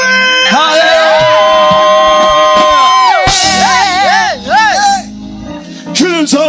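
A Sunday church service congregation shouts, whoops and cheers loudly together, with high ululating voices rising and falling in waves over the close, continuous crowd noise.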